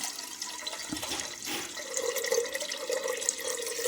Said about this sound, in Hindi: इसमें डालना है हमें पानी, और पानी इतना डालना है कि बहुत ज़्यादा ना तो पतली हो और बहुत ज़्यादा ना ही टाइट हो।